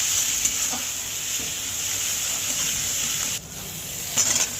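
An onion, tomato and chilli paste with salt, turmeric and Kashmiri chilli fries in a pan, hissing steadily up close while a utensil stirs with soft scrapes and a brief dip near the end.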